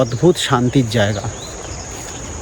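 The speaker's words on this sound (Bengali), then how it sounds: "চারিপাশে পাখির ডাক, ঝিঝি পোকার ডাক" Steady, high cricket chirring fills a forest near Bijanbari with a running stream nearby; a person talks briefly over it at the start, then the insect drone carries on alone.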